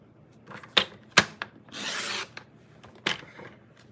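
Paper trimmed a quarter inch off both sides on a paper trimmer, with sharp clicks and snaps followed by a short rasping slide of the blade, then another click, close and isolated.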